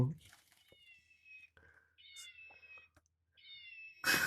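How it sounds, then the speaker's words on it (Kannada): Three drawn-out, high meows sound one after another with short gaps, fairly faint, amid some small rustles and a sharp noise at the end. "ಬೆಕ್ಕು"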